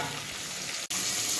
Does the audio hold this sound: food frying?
yes